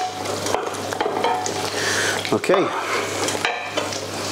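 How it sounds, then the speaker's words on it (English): Tomato passata sauce stirred in a pan, with soft scraping and a gentle simmering sizzle, a few knocks of the utensil against the pan, and a brief spoken word. "Just give it a stir round."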